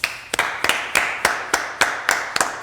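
Hands clapping in a small room, about ten sharp evenly spaced claps in a steady rhythm, close and crisp with nothing else heard.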